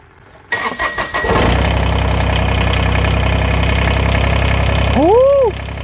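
A Kubota BX compact tractor with a HydrosPlus Turbo+ installed cranks with a few choppy bursts, then catches and settles into a loud, steady idle close by. A short whooping voice rises over the engine near the end.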